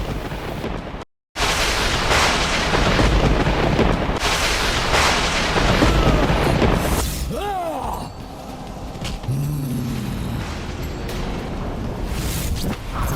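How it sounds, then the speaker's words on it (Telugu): Dense, roaring storm-and-thunder sound effect for a mythological tale of the wind god unleashing a great storm: continuous loud rumbling with booming surges, a brief dropout near the start, and sweeping tonal cries later on. "తరువాత వాయుదేవుడు భారీ తుఫానును సృష్టించాడు."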